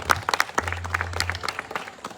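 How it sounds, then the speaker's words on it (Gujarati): A crowd claps in sparse, uneven bursts at a felicitation ceremony in Porbandar where an MLA honours YouTubers. The claps are moderately loud and scattered rather than a solid roar, over a low background hum. "તાળીઓના ગડગડાટથી વટાવી લીધું"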